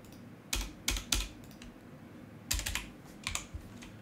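Keys clack on a computer keyboard in short bursts of several strokes, with pauses between them, close and clear with no talking.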